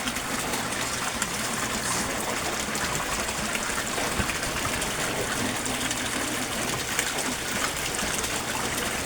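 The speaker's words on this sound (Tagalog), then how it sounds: "Aquaspeed submersible pump A5000" An Aquaspeed A5000 submersible pump moving water in a koi pond, heard as a loud, continuous, even gush and trickle of water with no pauses or talking.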